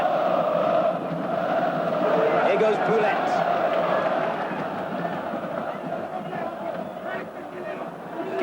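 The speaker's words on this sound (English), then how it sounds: "It's got the fans on their feet and cheering again." A football stadium crowd roars steadily at a 1993–94 Champions League match between Galatasaray and Manchester United, a loud dense wash of cheering that eases slightly midway, with a commentator talking over it.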